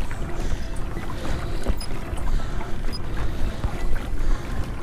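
Wind buffets a small boat on a pond in Delaware in winter, with steady rushing gusts and faint water lapping close to the microphone throughout.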